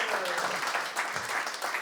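An audience claps in a steady, even patter, faint and distant, at an outdoor cultural show in Corrèze.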